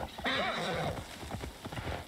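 A horse in the Assassin's Creed Valhalla video game gives a loud, near whinny while its hooves clip-clop at a steady gallop, the neigh fading into continued rhythmic hoofbeats.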